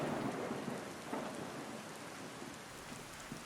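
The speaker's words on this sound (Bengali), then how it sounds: "রাত্রে ঘন মেঘ করিয়া ঝুপঝুপ শব্দে বৃষ্টি হইতে আরম্ভ হইল।" Heavy rain pours steadily at night, a dense continuous downpour close by with a low rumble of thunder rolling underneath, no voices present.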